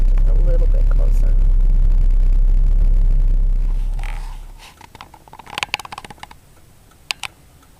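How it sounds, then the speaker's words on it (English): A truck rumbles loudly past a rural spot where deer feed near chickens, its low engine roar holding steady and then fading away, followed by faint close ticks and rustles. "The truck came by and scared them off"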